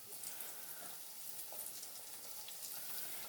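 Zucchini pieces fry in hot grease in a pan, giving a steady, soft sizzle with light crackling pops, quiet and close, with no talking.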